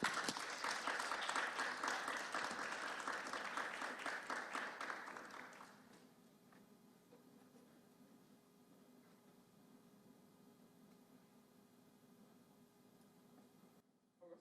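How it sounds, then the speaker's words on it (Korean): Church congregation at a Seattle downtown campus worship service claps to welcome the pastor, fairly faint and distant, dense clapping for about six seconds, then fading to a quiet room. "우리 큰 박수로 환영하도록 하겠습니다"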